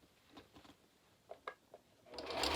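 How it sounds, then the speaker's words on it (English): A sewing machine runs a straight stitch parallel to an earlier seam, forming an elastic casing on a DIY clown Lolita garment. A few soft ticks come first, then the motor's steady whir builds, close and fairly quiet. "now I'm just sewing along another straight stitch parallel to the line that I just made"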